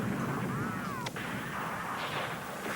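An artillery barrage in a wartime drama scene, a muffled, continuous rumble of distant fire with a sharp crack near the middle and a faint whistling sweep, steady and without speech.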